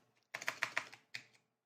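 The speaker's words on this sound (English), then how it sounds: "who knew typing could be so hard?" Typing on a computer keyboard: a quick burst of about eight close, crisp key clicks, a short pause, then two or three more taps, quiet and alone.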